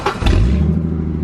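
Mustang-powered drift kart engine turning over and catching, a loud low rumble with a thump at the start that settles into a steady, close idle.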